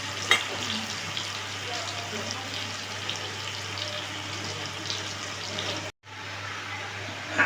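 Potatoes frying in hot oil give a steady, close crackling sizzle that runs almost unbroken, cutting out for a moment near the end before resuming.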